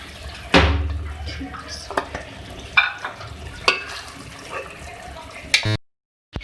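A metal spoon scrapes and taps against a pan as beef aloo fry masala with chopped coriander is mixed and served, giving a series of sharp clinks and scrapes over a low background hum.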